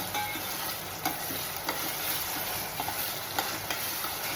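A spoonful of ginger, garlic and coconut paste goes into a hot pan for an egg curry, producing a dense, continuous sizzle with faint, occasional stirring clicks.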